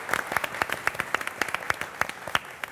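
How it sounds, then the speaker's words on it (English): A small crowd of people in Phagwara, Punjab, cheering cyclists, claps in a quick steady rhythm of individual sharp slaps, fairly close and moderately loud, with no voices over it. "A big round of applause for everyone in Phagwara."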